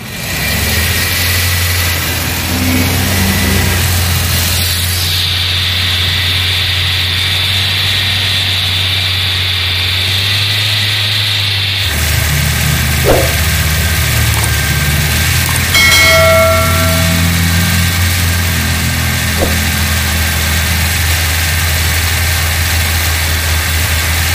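A Toyota Corolla big body engine idles with a steady low hum, and partway through, once the engine is warm, the auxiliary cooling fan switches on, adding a brighter whirring layer over the engine.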